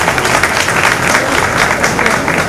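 An audience at a community women's-wing celebration of women's power breaks into loud, dense applause, a continuous wash of many hands clapping together close by.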